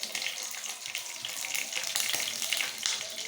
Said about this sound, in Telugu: హోల్ గరం మసాలా వేద్దాం